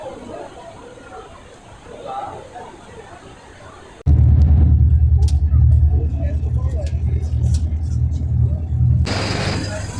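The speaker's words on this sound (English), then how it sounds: "I'm on bus number 120 again, leaving the national park." City bus number 120 pulling away from Iguazu Falls national park in Brazil: quiet outdoor ambience gives way to a loud, steady low engine rumble inside the cabin, with faint background chatter and rattles.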